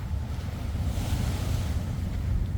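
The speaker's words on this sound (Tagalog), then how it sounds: "Andito tayo sa Siloso Beach." Ocean waves wash at Siloso Beach in Singapore as a steady low rumble of surf mixed with wind buffeting the microphone, continuous and fairly close, with no talking.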